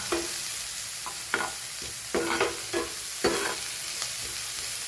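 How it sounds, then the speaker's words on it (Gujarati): Onion and chili sautéing in a pan over low heat, a steady close sizzle broken by regular scraping strokes of a spatula against the pan. "1 ડુંગળી અને મરચું સરસ સોતે કરી લઈએ."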